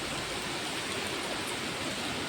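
Water flows with a steady, close, broadband rush, continuous and without pause.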